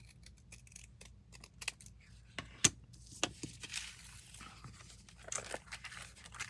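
Scissors snip through organizer flap material in a few quick, crisp cuts close by, scattered among soft rustling and handling noise, with no voices.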